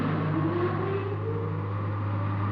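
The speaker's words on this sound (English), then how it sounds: "Charging port engine." A supercar's port engine charges up with a steady, low mechanical hum under a rising whine that climbs gradually. The sound stays fairly faint and even, with no voices.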